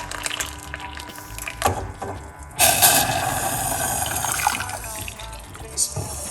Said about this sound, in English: We're gonna put 1 cup of hot water.